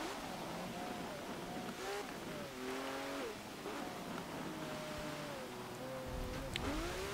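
A 1986 Lamborghini LM002 in Forza Motorsport 7 ploughs through puddles, a steady engine drone with shifting tones under continuous watery splashing and sloshing.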